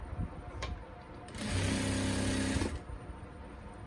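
Sewing machine stitching a salwar seam, a steady mechanical whir lasting about a second and a half, close and fairly loud, framed by quieter handling noise before and after.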